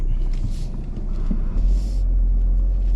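A Mercedes-engined four-wheel-drive car runs with a steady low engine rumble from inside the cabin, louder and heavier in the last half, with some wind and road noise over it and no talk.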